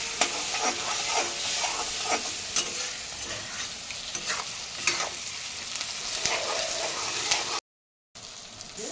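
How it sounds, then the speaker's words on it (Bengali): Kashmiri chilli, coriander and cumin powders fry in oil in a pan for egg tadka dal, giving a steady close sizzle broken by repeated scraping stirs, with a brief cut-out near the end. "দিয়ে দেব ধনে গুঁড়ো আর জিরে গুঁড়ো দিয়ে ভালো করে এটাকে আবারও ভাজতে হবে"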